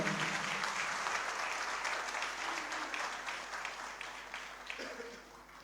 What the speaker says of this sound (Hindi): मैं चाहता हूँ कि मेरे तमाम टीचर्स, प्रोफेसर्स, फॉर्मेटर्स के लिए आप एक बार ज़ोरदार तालियां बजाएं।